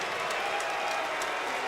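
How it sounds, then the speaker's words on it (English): A spring training baseball crowd at a 2015 Tampa Bay Rays game gives mixed applause for Alex Rodriguez: a steady, diffuse wash of clapping and crowd noise that holds at an even level throughout, with no distinct voices. "You hear the mixed applause for Alex Rodriguez"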